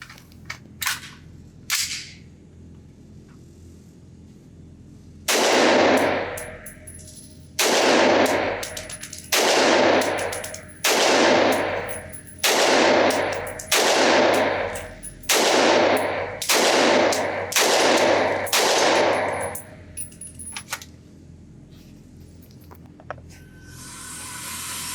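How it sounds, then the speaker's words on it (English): Noveske Ghetto Blaster .300 Blackout AR pistol firing subsonic ammunition unsuppressed outdoors on a range: about a dozen loud, sharp reports spaced roughly a second apart, each with a short echoing tail, after a few quieter clicks and handling sounds. "So let's see if it can run Subsonic ammo."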